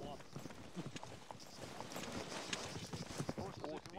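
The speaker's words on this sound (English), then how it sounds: "Wrangle a horse and rejoin the rank." Horse hooves clip-clop through a melee siege battle in a multiplayer army game, steady and mid-distance, mixed under busy combat noise and overlapping players' voices.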